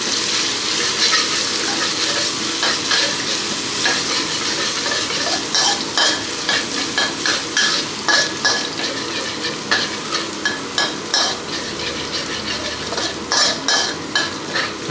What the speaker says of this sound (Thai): พริกกระเทียมนำลงผัดให้หอมเลยครับ